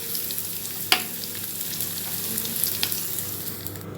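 Grated coconut roasts in ghee for Kerala unniyappam, giving a steady close frying sizzle with one sharp scrape early on and a few lighter stirring ticks after it.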